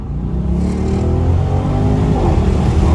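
Engine of a 2021 Audi RS Q8 with 591 hp revving loudly from inside the cabin, a deep steady roar with rising harmonic sweeps over about three seconds.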